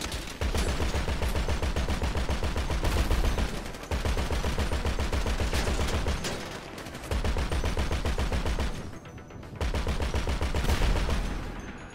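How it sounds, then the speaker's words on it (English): Gunfire erupts while enemies are being shot in GTA 5, heard as loud, rapid automatic bursts in long sustained strings with short pauses between them. "now I'm trying to shoot all these guys"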